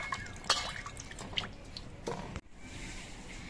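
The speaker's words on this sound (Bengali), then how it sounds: "এবার কচুরটাকে আমি জল দিয়ে কিছুক্ষণ ডুবিয়ে রাখবো জলের মধ্যে" Taro pieces set to soak in lightly salted water give a few small drips and wet squishes up close, with a faint liquid background and a brief drop-out near the end.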